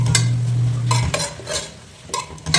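Chopped onions frying in a pan for beef biryani, stirred with a utensil in short scraping bursts over a soft background sizzle, close and moderately quiet.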